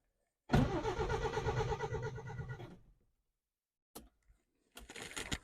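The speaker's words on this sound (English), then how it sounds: "I'm just going to bump the starter" A 1979 Subaru BRAT engine cranks hard on its starter for about two seconds of loud, rhythmic churning without catching, followed by a few brief, sharp bursts of cranking after a pause.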